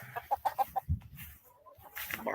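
Grown chickens in a chicken tractor clucking, a quick run of short clucks and then softer chatter, with some background rustling and noise.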